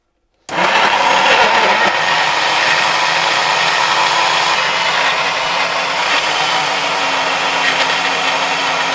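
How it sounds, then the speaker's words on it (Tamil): Starting abruptly after a brief silence, a blender runs at a loud, steady whir as it churns mango, strawberry, ice cream and ice cubes, holding a constant motor drone with no speech. "இதெல்லாம் போட்டு நல்லா அடித்தோம்னா நல்லா சூப்பராக வந்து ஒரு மில்க் ஷேக் ரெடி ஆகிடும்"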